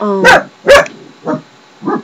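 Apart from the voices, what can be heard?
dog barking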